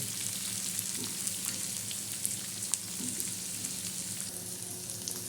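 Sliced onion and dried fish fry in a pan, a steady soft sizzle and crackle with occasional light stirring clicks, close but fairly quiet, no voices.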